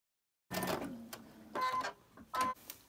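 A sewing machine chain stitches fabric pieces for an autumn table topper block in short bursts of whirring, with a few pauses between runs and no talk.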